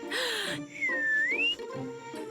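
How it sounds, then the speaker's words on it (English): A cartoon character whistles a single gliding tune: one clear, loud note bends down and then up again. Brief squeaky cartoon voices come just before and after it. "I was the one whistling."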